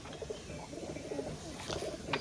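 Short-bodied pigeons give soft, low coos close by, repeated several times over faint background noise.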